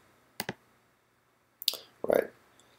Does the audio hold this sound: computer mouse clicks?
yes